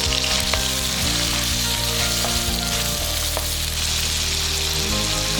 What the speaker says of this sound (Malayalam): ഒരു ചെറിയ സവാള കുറച്ച് കനത്തിലരിഞ്ഞത് നമുക്ക് ഈ ചിക്കനിലേക്ക് ഇട്ടൊന്ന് വഴറ്റിയെടുക്കാം